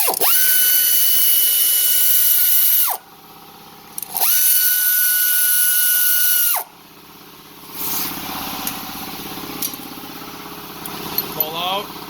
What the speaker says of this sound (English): Starts with 17mm socket right here with these 2 bolts.